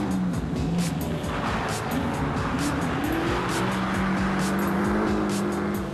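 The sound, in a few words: 1965 Ford Mustang racing through rally course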